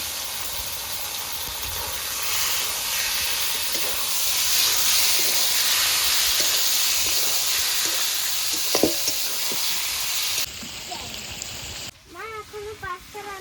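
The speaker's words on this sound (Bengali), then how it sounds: "এবার কুচানো মাংসটাকে নেড়ে চেড়ে ভালো করে কষিয়ে নেব।" Minced chicken sautéed in a pan for chicken pasta, a steady close sizzle with stirring scrapes that fades after about ten seconds, followed by brief talk.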